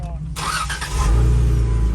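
An off-road vehicle engine cranks and fires up with a low rumbling roar that swells and holds near the end, after a brief burst of activity; voices talk over it.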